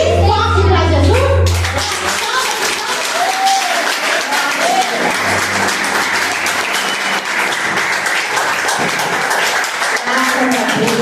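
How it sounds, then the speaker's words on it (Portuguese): A church congregation bursts into loud, sustained applause for Jesus, dense clapping filling the room after a brief spoken lead-in, with children's voices mixed into the crowd. "vamos dar uma salva de palmas bem forte para Jesus"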